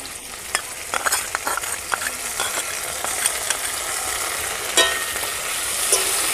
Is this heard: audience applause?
no